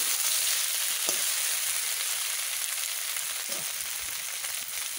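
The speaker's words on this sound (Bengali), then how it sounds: "আমি সবকটা মাছ একসাথে দিয়ে দিচ্ছি, একটু কষাই নিই।" Fish pieces frying together in spiced oil in a pan, giving a steady, dense, close sizzle throughout with a few faint stirring touches and no talk.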